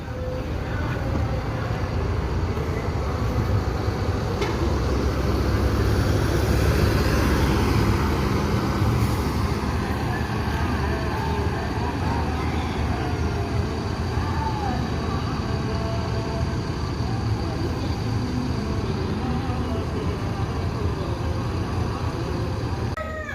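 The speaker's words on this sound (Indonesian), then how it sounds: "Ada Sembodo Sweet Kombi memasuki Terminal Baris Solo." A Sembodo Suite Combi bus rolls into the Solo bus terminal, a loud, sustained low engine rumble mixed with surrounding traffic and station noise that swells slightly midway and then holds steady.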